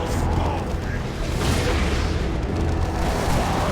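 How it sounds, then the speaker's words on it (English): Tzeentch Dreadnought and Havocs opening fire in Dawn of War II: Retribution, a dense barrage of booming, rumbling explosions that stays loud throughout. "I open fire with the Tzeentch. With the Tzeentch Dreadnought."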